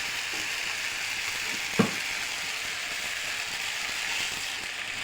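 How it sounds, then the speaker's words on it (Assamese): Potatoes stirred together with spices in a frying pan, a steady close sizzle and fry with one brief scrape of the spoon partway through. "এয়া মছলাৰ লগত আলুখিনি দিয়া হৈছে। এয়া মিক্স কৰিছোঁ।"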